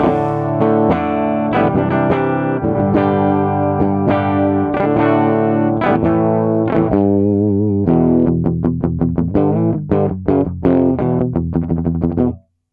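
Electric guitar through effect pedals without an EQ pedal, in a DIY pedal-built amp setup, distorted and chorused, playing a rhythmic riff of chords and picked notes that cuts off abruptly at the end.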